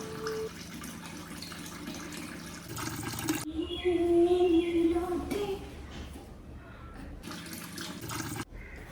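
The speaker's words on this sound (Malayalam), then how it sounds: "സൽമാക്ക, ഇത് വെള്ളം നിറഞ്ഞോണ്." Water running from a tap into a container, a steady close gush whose tone shifts as the level rises, briefly louder midway, with no talking.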